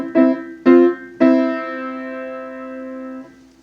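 Three piano notes from a song struck in a quick 1-2-3 count, the last held and ringing out as a tied note for about two seconds before it is released, heard alone and close.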